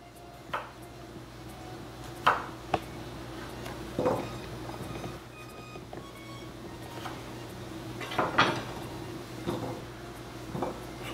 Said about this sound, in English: Classic baby creamers, potatoes, and I'm going to cut it in half.